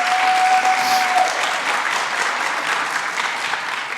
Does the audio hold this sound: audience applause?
yes